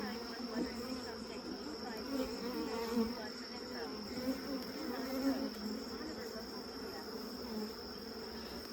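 Honeybees hum steadily in an open beehive during a summer inspection, a soft continuous buzz with faint murmuring under it throughout.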